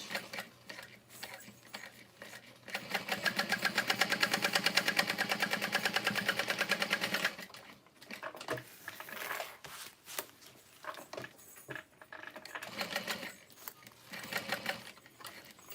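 A sewing machine stitches a wristlet seam in a fast, steady mechanical run of several seconds, then continues in shorter stop-start bursts with pauses between them.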